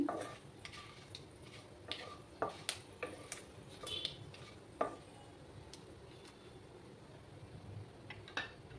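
Ginger paste fries in a pan with a soft, steady sizzle, while a utensil scrapes and taps the pan now and then, heard close and faint.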